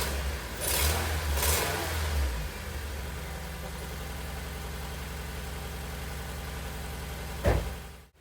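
A 2002 Honda Civic engine runs steadily after a misfire repair, with an early rev or blip in the first two seconds settling into an even idle, then a brief knock near the end.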